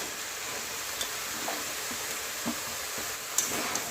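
Steady broadband sizzle of bottle gourd frying in mutton fat, with occasional soft clinks of a spoon stirring, continuous and close.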